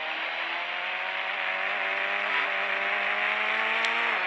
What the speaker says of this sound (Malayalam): എൻജിൻ സ്റ്റാർട്ട് ആവട്ടെ.